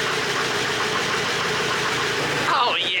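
A Ford 6.0 Powerstroke diesel pickup truck engine starts and runs steadily at a low rumble, then revs and changes pitch near the end, close by.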